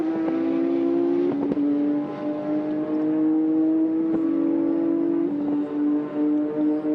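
Porsche race car at the 1997 24 Hours of Le Mans, its engine holding a steady, loud high drone with gentle pitch shifts as it runs flat out, a couple of brief clicks along the way.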